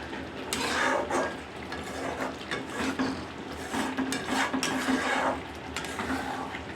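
Egg do pyaza gravy being stirred in a pan gives a steady run of scraping, clinking strokes of spoon against metal over a soft background hiss.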